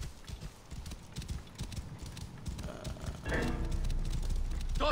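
A horse's hooves clip-clop in a steady rhythm in Assassin's Creed Origins, moderately close and loud over outdoor game ambience, with no talking.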